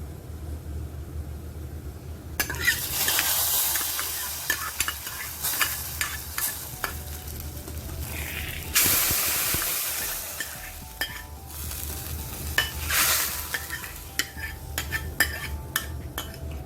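Steady frying sizzle of a spice tempering with stirring and metal utensil clinks, a loud hiss swelling in bursts as it meets tamarind broth, no voices.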